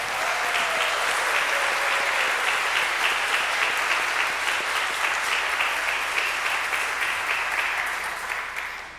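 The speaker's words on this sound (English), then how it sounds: "Let's give all of our graduates another round of applause." A crowd at a school graduation ceremony applauds the graduates with dense, sustained clapping that holds steady for several seconds before starting to fade.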